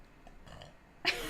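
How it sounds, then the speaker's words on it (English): One short, loud burp erupts close to the mic after a stretch of near quiet, an abrupt throaty burst that ends the moment. "I have to burp."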